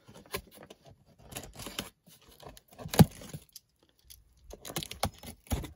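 Scissors snip into a transparent plastic parcel wrapping, with irregular close cuts, crinkles and rustles, one sharp louder snap midway, and quiet gaps between.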